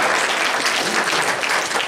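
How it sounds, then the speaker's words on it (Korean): Steady, moderately loud applause fills a young adults' Sunday worship service at a church in Auckland, with a dense wash of many hands clapping at once without pause. "박수 한번 주세요"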